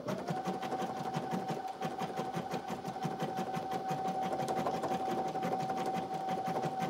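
An embroidery sewing machine works on an in-the-hoop lip balm holder with a lot of thread built up behind it, running in a fast, even stitching rhythm, close and continuous with no voices.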